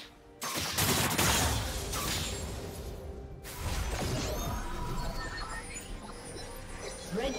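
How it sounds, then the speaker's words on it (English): A turret collapses in League of Legends, a loud crashing burst with debris rumble and whooshing effects, followed by continued battle clatter and game sounds. "Red team's turret has been destroyed."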